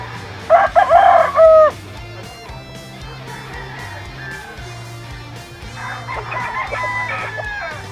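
At a chicken market in Grotto, Bulacan, a rooster crows loudly and close by, then hens cluck and another crow rises amid a busy background with a low steady hum.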